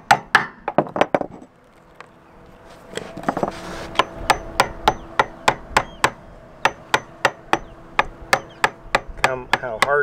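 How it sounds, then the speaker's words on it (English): A screwdriver struck with a hammer chips at a mast collar on a boat, giving a steady run of sharp metallic taps, close and evenly spaced, after some rougher scraping and knocking at the start. "How hard it is to even cut through with a screwdriver and a hammer"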